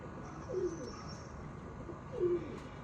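Two soft, low pigeon coos, about a second and a half apart, over a steady hiss of background noise.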